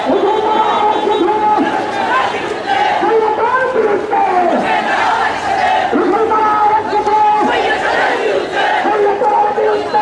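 A large protest march crowd advances toward a police barricade, chanting and shouting in loud, rhythmic unison, with the roar continuing for the whole stretch.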